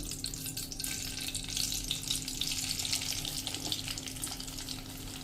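Moong flour roasting in ghee over a medium flame gives a steady, soft frying hiss with light stirring scrapes, continuous and close, with no voices.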